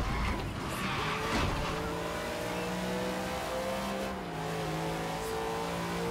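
A car in Forza Horizon 3 brakes hard and skids, its engine winding down as the tires scrub and squeal in a continuous rush over several seconds.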